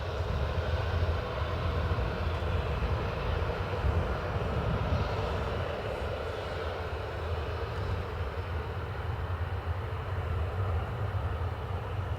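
A jet airliner taxis along the runway at Dublin Airport in wet, crosswind weather, its engines giving a steady, loud, continuous roar and whine with no voices over it.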